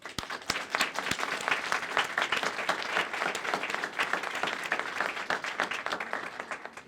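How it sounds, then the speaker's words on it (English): Warm applause from a gallery audience at an opening reception honoring the exhibition team: many hands clapping in a steady, crisp patter, fairly close and sustained before thinning out at the end. "a warm round of applause"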